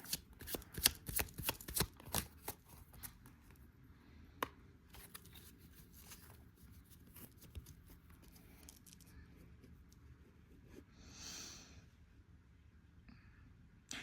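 Cards are shuffled and drawn for a pick-a-card reading, quick crisp riffling and slapping up close at first, then sparse soft slides and taps, faint overall and without any talking.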